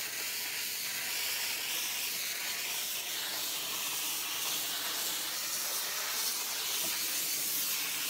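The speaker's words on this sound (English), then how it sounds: "You'll see steam coming out of it, but you also see water." Car detailing steamer releasing dry steam while cleaning a car, a steady loud hiss that runs unbroken throughout with no voices.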